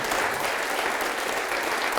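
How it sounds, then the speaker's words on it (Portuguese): A church congregation claps steadily and loudly, continuous applause with no voices standing out. "vamos aplaudir mais ao nome de Jesus"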